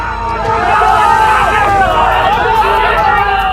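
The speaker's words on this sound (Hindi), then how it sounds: "गुस्साई भीड़ विधायक की गाड़ी को घेर कर नारेबाजी करने लगी" Angry crowd around an MLA's car, a loud, dense mass of shouting voices chanting slogans continuously throughout.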